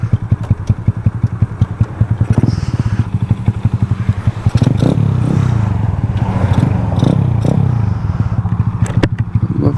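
A Honda Grom clone motorcycle engine chugs steadily on a test ride, loud and close. The firing pulses are rapid and even, with some clatter and rattle on top and brief changes in revs.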